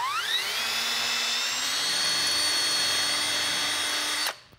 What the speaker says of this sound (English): We're gonna drill it again.